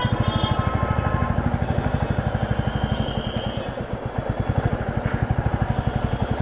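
Motorcycle ridden along a road and slowing down, a close, steady pulsing engine thrum with rapid regular firing beats that ease slightly partway through, heard alone without talk.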